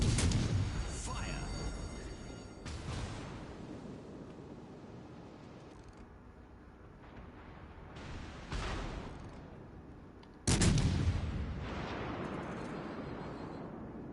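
Warship main guns fire in World of Warships: Legends, with four heavy booming salvos spread apart, each followed by a rumbling decay.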